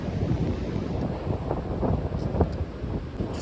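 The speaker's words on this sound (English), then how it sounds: "it's so windy, it's so cold" Strong wind on a mountaintop in the Grayson Highlands buffets the microphone in a steady low roar with gusty surges, no voices.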